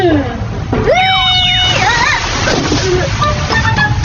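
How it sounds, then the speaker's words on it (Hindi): Water splashes and sloshes from a cartoon Niagara Falls waterfall in a continuous loud wash. Animated character voices and exclamations ride on top of it. "इस बार मैं नाइग्रा फॉल्स का वाटरफॉल लाया हूँ।"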